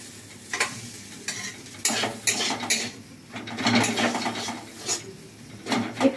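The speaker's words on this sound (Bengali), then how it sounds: "একটু ভাজা হোক।" Watermelon rind frying with ginger in a little oil in a pan, soft sizzling broken by bursts of scraping and rattling as a spatula stirs against the pan, close up with no voices.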